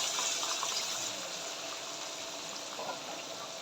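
Bagoong alamang (shrimp paste) is washed under running water, giving a steady, close gush of flowing water throughout with no talking.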